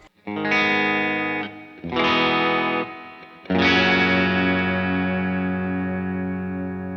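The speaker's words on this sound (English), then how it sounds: "that's reverb because nobody likes an amp without a little bit of space to it" Three heavy distorted guitar chords ring out through an amp with an Electro-Harmonix Mod 11 effects pedal, the last one sustaining and fading with a spacious reverb tail.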